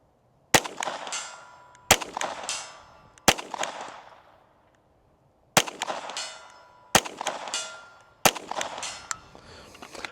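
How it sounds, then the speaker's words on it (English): Six sharp shots from a SIG Sauer P322 handgun ring out on an outdoor range. Each loud crack is followed by a fading ringing tail, and the shots are spaced a second or more apart. "we'll send 5 shots down that way"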